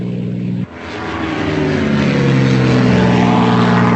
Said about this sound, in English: soon Mustang fighters took to the skies at speeds approaching 400 miles an hour